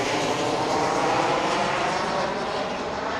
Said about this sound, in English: You can see the next plane coming up just behind us. It's a 737.